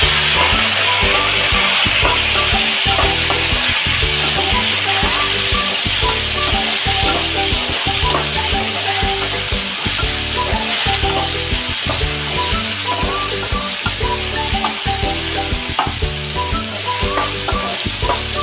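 Medium-sized tomatoes fry in a pan, sizzling loudly and continuously up close, with rhythmic scraping and stirring strokes repeating throughout.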